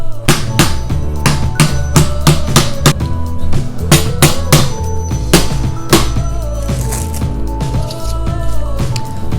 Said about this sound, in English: let me get a hammer